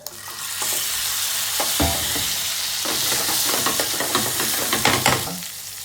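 Onion with ginger and garlic fries in oil for Siraji hari murog, a steady dense sizzle with stirring scrapes and clicks growing busier toward the end.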